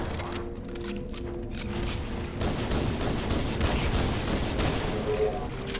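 Sustained gunfire in Halo: Combat Evolved on Legendary in The Library, dense overlapping bursts and rattling shots continuing throughout at steady loudness with game noise beneath.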